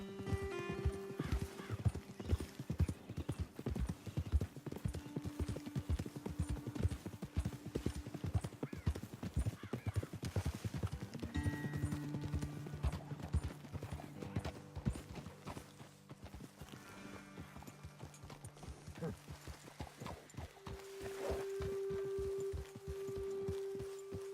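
Horses clip-clop steadily in the video game Red Dead Redemption, rhythmic hoofbeats on the ground with occasional snorts and a whinny, over a low sustained musical tone.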